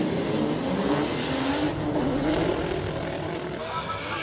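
BMW M3 race car at a hill climb, its engine a sustained loud drone that holds steady throughout, with a voice speaking over it.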